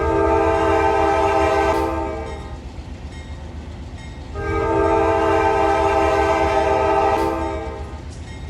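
A locomotive horn sounds at a grade crossing in the Run 8 train simulator, two long steady blasts separated by a short gap, loud and close over a low engine rumble.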